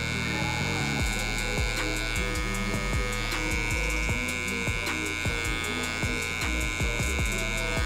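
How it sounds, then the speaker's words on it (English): Electric hair clippers buzzing steadily close up while cutting hair over a comb during a high taper, a continuous mechanical hum with rapid choppy pulses as the blade passes through the hair. "So we're gonna do some clipper over comb."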